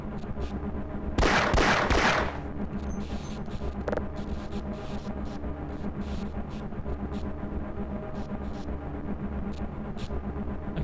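A short, loud burst of rapid gunfire from Half-Life lasts about a second amid a steady hum of game ambience, followed by faint scattered clicks.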